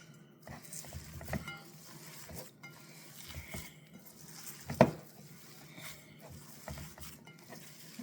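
Ground meat for an Italian meatloaf is mixed by hand, making soft, wet squishing and slapping sounds in a loose rhythm, close and quiet, with one sharper knock midway.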